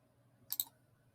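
Computer mouse clicking on a Create Class button: a quick double click, crisp and close, in an otherwise quiet room.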